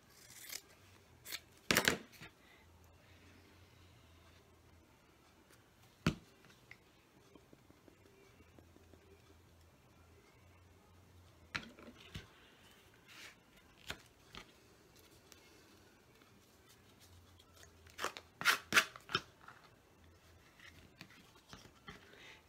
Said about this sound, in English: let's just cut a little bit back